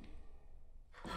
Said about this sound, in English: I hear breathing.